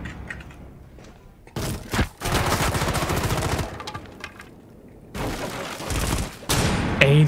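Bursts of gunfire in the video game Rainbow Six Siege, loud rapid volleys in two main stretches separated by quieter gaps, with a few single shots and thuds around them.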